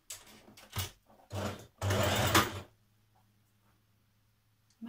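A sewing machine stitches a blouse seam up to a marked back-tack point, running in a few short bursts before falling quiet to a low hum.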